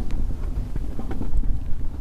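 Wind buffets the microphone aboard a traditional flat-bottomed sailing boat with a low, uneven rumble, punctuated by faint knocks and creaks, with no talking.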